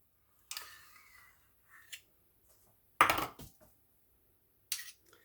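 A spoon scrapes thick peanut butter out of a measuring cup for sugar-free, flourless peanut butter cookies, giving a few short, quiet scraping and clinking sounds with gaps between, one louder cluster in the middle.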